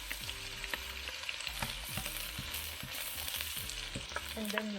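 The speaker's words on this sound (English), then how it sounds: "Then we just gonna saute this until it's a little bit of brown color." Sautéing in a pan for squid adobo: a busy, close sizzle with a rhythmic series of spatula scrapes and clacks against the pan, continuing steadily throughout.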